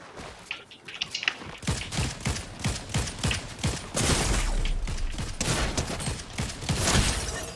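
Gunfire in Fortnite aimed at the player: bursts of rapid shots crack in quick succession, growing denser and louder midway, with mechanical clatter and no speech.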